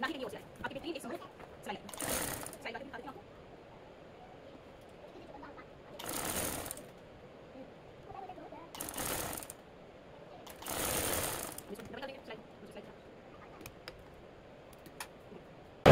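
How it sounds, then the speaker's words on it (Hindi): A sewing machine stitches trouser fabric from the underside in several short bursts of rapid, buzzing clatter separated by quiet pauses, close and fairly faint, with someone talking in between. "सिलाई को नीचे से लगाना है, ऊपर से नहीं लगाना"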